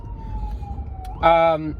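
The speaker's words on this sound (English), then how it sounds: "The ambulance." Ambulance siren in a city street, heard as a short burst of loud, harmonic wailing tone that rises over steady traffic rumble near the end, with a fainter siren-like tone drifting underneath beforehand.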